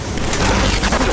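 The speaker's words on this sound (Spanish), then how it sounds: "este prototipo de arma de destrucción masiva portátil Helgan, que es capaz de desintegrar a uno o varios enemigos de un solo disparo" A portable Helghast prototype mass-destruction weapon fires in the Killzone 3 video game, a dense, loud burst of booming, crackling discharge that fills the whole short moment without pause.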